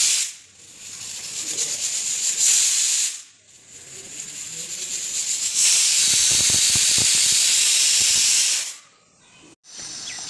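A pressure cooker boiling potatoes and peas releases steam in loud hissing bursts, with brief pauses between the jets and a sustained rush in the middle.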